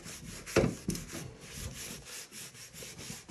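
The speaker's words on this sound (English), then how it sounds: "I just sprayed it and I'm wiping, and we'll just see how good it looks without even any scrubbing." A cloth or paper wipes sprayed cleaner off the surface of a 1980 Atari Battlezone arcade cabinet, giving quiet, close rubbing strokes in an irregular back-and-forth rhythm, with one firmer swipe near the start.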